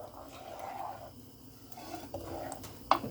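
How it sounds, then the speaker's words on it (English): A spoon scraping and stirring chocolate pudding filling in a pot on medium heat, soft continuous swishing with a faint sizzle and one sharper clink of utensil against the pot near the end. "you're just going to stir it, and you're going to stir it constantly"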